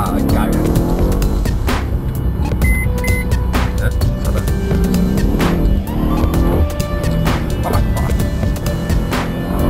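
A 2013 Mercedes-Benz E63 AMG turbocharged engine roars loudly as it accelerates from inside the cabin, rising revs and gear changes with someone talking over the drone.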